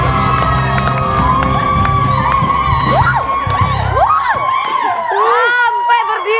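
A huge stadium crowd of tens of thousands roars and cheers continuously, loud and dense, with whoops and shouts rising over the din and applause mixed in.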